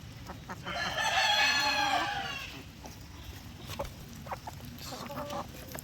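Asil and shamo chickens cluck and squawk in a noisy burst as they scramble for food, with scattered pecking and scuffling sounds continuing afterward in a busy yard.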